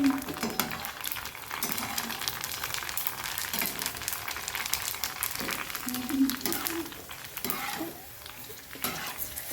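Oil heating and sizzling in a pan while preparing sev puri, a steady crackling fry with occasional stirring clatter over the whole stretch, with a voice talking faintly at moments.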